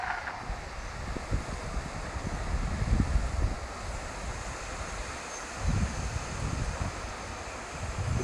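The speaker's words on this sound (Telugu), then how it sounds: "చూడండి ఫ్రెండ్స్ అదే వాటర్ ఫాల్స్" Rushing water at Chelimichenu waterfall among hills, a steady broadband roar mixed with wind buffeting the microphone, continuous and fairly loud with no talking.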